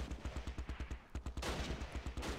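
Rapid bursts of gunfire from troops in the Close Combat: Last Stand Arnhem wargame, a steady rhythmic stutter of shots that thickens into a dense, noisy volley toward the end.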